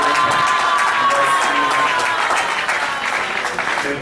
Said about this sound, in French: J'aimerais ça qu'on puisse encore applaudir très fort pour les oratrices du jour.